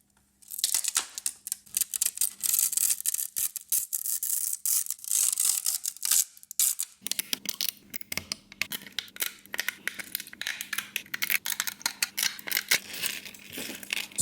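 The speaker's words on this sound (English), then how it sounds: "So you just saw me taking out some of the supports from this cantilever part" Supports being pulled and scraped out from the cantilevered section of a concrete architectural model, giving close, dry scraping, clicking and gritty rubbing sounds in irregular bursts over a low steady hum, no talking.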